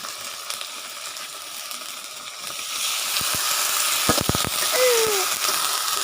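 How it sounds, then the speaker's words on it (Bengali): Ginger paste hits hot oil in a home kitchen pan after frying fish, giving a steady close sizzle and hiss. A few clinks and a brief squeak sound near the end. "আদা বাটা দিয়ে দেবো।"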